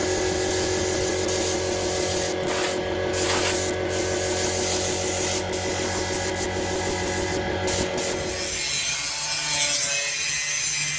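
A spray gun applies Raptor protective coating to vehicle parts in a workshop. A loud, steady hiss runs throughout with a few brief interruptions, then shifts into a brighter, thinner spray near the end.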